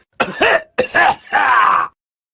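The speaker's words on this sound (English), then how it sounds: "The old man coughed." An old man coughs and groans hoarsely in three rough, voiced bursts, close and loud, then falls silent.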